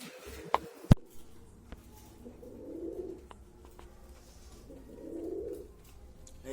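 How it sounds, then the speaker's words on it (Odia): Pigeons eating and cooing softly, with low murmuring coos swelling twice among a few sharp pecking taps and light background rustle, no voices. "ଏଇ ସବୁ ପାରା ଖାଉଛନ୍ତି ଏବେ।"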